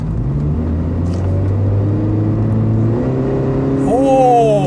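A Honda CR-Z hybrid sports car, final model, accelerating hard in S+ mode, its engine and motor note rising steadily in pitch from inside the cabin, with a brief higher whine near the end and someone talking over it.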